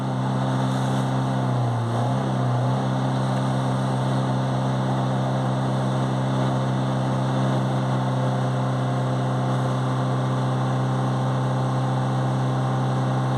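A 2.3-litre Euro 6 Iveco Daily van diesel with a particle filter unable to regenerate runs steadily close by, its engine note rising briefly in a short rev before settling back to an even drone.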